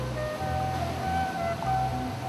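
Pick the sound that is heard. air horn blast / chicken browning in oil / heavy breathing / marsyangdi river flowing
marsyangdi river flowing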